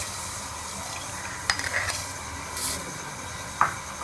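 Sugar is added to hot milk and stirred with a spoon in a pan, producing a few sharp clinks and scrapes against the metal over a low steady simmering hiss, close and fairly quiet.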